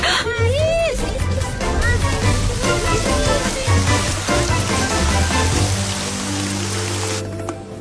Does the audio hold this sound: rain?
yes